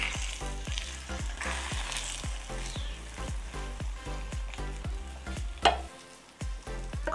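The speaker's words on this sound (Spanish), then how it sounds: "Cocinarlo a fuego bajo hasta que se cuaje" An egg fries over low heat in a pan alongside slices of bread, giving a steady close crackling sizzle with rhythmic popping bursts and no talking.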